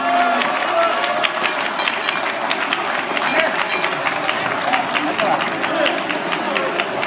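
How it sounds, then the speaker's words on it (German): Applause from the crowd at the 2017 Uttendorf Stuhlfelden cattle show marking its 120th anniversary: dense, steady clapping that runs without a break for about seven seconds, loud and close. "Die bitte ich jetzt um einen extra Applaus zu verabschieden."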